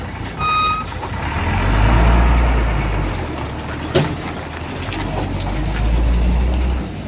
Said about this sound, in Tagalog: Up, the truck is moving.